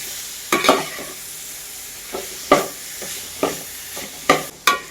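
Cut pineapple being stirred in a pan for pickle, a soft background sizzle punctuated by about seven distinct spoon scrapes and clacks at an irregular pace.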